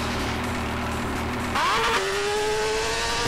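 A motorcycle engine in GTA San Andreas hums steadily and then revs higher as the bike pulls away, its tone climbing and holding. The sound is loud and close, with no talk.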